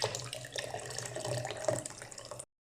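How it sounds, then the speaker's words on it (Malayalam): Water pours into a kitchen blender (mixie) jar holding ginger, chilli and curry leaves for spiced buttermilk, a brief soft splashing stream lasting about two seconds. "പാകത്തിന് വെള്ളം ചേർക്കുക"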